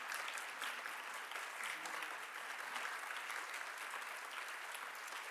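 An audience at an annual celebration event applauds, sustained dense clapping from many hands, fairly faint and even throughout.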